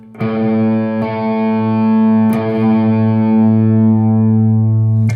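A distorted electric guitar rings out an octave interval, a single loud sustained chord that holds steady for about five seconds with faint pick noise at a couple of points.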